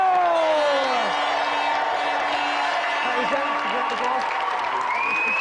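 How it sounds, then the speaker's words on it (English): Studio audience applause on a television game show, dense clapping sustained throughout at a steady level while a voice talks over it. "let's give another round of applause for our gatherers of Paul Turner and the great Frank Bruno!"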